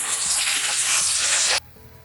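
Sun-dried tomatoes hit a hot pan with a loud, steady sizzle for about a second and a half, then cut off abruptly to a quiet low hum.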